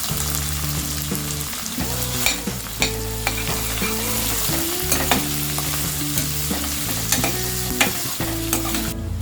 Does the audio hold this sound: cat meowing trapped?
no